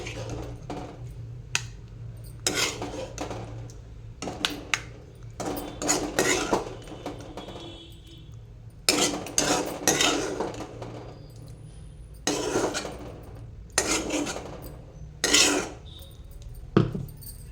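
Tomato chutney blended with coriander, green chillies and mint, scraped out of a steel mixer jar, gives repeated clinks and scrapes of a spoon against metal in irregular bursts, close and fairly loud.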